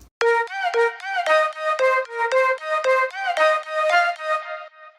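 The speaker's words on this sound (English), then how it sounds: "And it's just a pan flute from Nexus." Breathy pan flute from the Nexus synthesizer plugin plays a bouncy melody of short repeated notes, clear and close with no other sounds.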